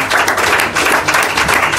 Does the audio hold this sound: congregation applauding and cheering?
yes